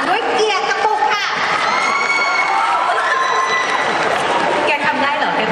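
An audience cheers, whoops and applauds loudly and continuously, with children's shouts mixed into the steady crowd roar throughout.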